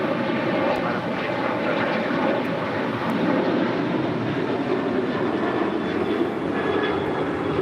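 An airliner takes off from runway 25 right at Los Angeles International Airport, its engines producing a loud, steady jet roar that fills the whole clip without pause.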